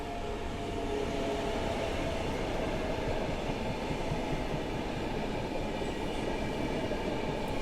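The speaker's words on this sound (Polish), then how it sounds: "jedzie Trax z pociągiem piętrowym" A Traxx electric locomotive hauls a six-car double-deck passenger train through Warszawa Główna station, a steady, loud rolling rumble with rail noise sustained throughout and no voices.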